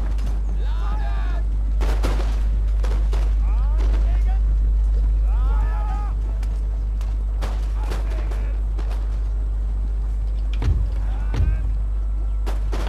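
Scattered cannon and musket fire during a siege of Constantinople in the strategy game Empire: Total War, several sharp bursts over a steady low rumble.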